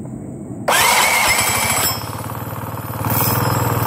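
A scooter engine with its transmission cover removed cranks and catches, then settles into a steady, close-up idle with a slight rise in revs toward the end.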